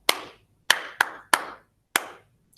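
A second-grade class claps a rhythm together in a music lesson: five crisp, unison claps in an uneven pattern, closely spaced in the middle, with quiet gaps between.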